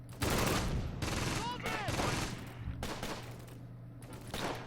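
Dense battle gunfire from the WWII strategy game Close Combat: Gateway to Caen, with overlapping bursts of rifle and machine-gun fire crackling loudly and continuously, a steady low hum underneath and a few whistling tones mixed in.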